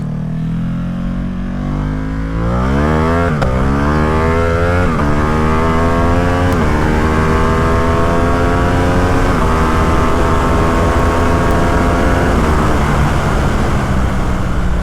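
Ducati Streetfighter motorcycle with an Arrow exhaust and no silencer, pulled at full throttle on an empty road: a loud, close engine climbs steadily through repeated rising revs with quick gear shifts, roaring continuously over wind noise.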